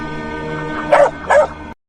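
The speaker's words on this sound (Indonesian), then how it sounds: "Lalu tiba-tiba datang seekor anjing hitam bernama Argus yang ketika itu menggonggong ke arah veteran itu" Black dog barking, two loud sharp barks close by over a steady background hum, no speech.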